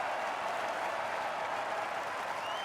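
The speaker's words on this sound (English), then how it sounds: "Crowd loves it." A crowd in the PGA Tour golf video game applauds in a steady, dense wash of clapping that holds at an even level throughout, with no clear speech over it.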